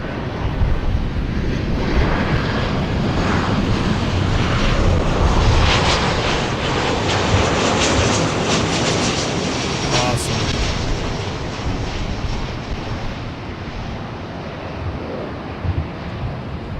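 Delta flight 802, a jet airliner, taking off from runway 24 left at LAX: a loud, sustained engine roar that swells and then slowly fades into a broad rumble, mixed with wind noise on the microphone.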